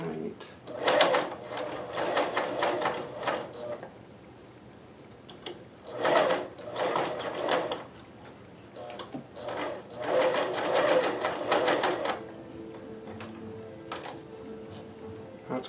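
A sewing machine stitches thick, stretchy sock fabric in several bursts of rapid needle clatter, separated by short pauses and quieter handling. A faint voice sits near the end.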